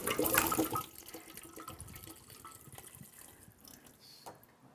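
Chicken broth from cans pours into a soup pot for butternut squash soup, a splashing liquid rush loudest in the first half-second that then thins into a softer, steady trickle.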